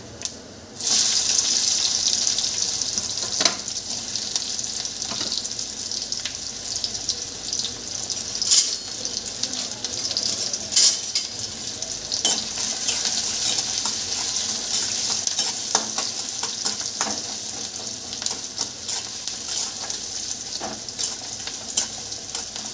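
Cumin and onion frying in a pan, a continuous close hiss of sizzling oil broken by the clicks and scrapes of a spoon stirring, with no voices.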